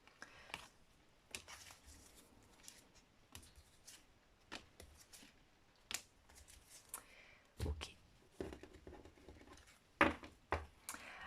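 Tarot cards being shuffled by hand, soft quick riffles and patters in scattered bursts, faint and close, with a quiet room behind them.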